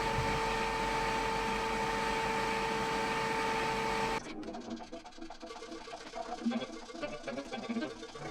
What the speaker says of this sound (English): I used the belt sander to clean up the four faces.